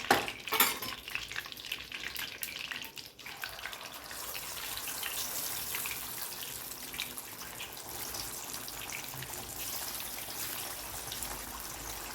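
Chilli chicken pieces frying in hot oil give a steady, close sizzle with crackling spatter throughout, louder and busier at first, then settling into an even hiss.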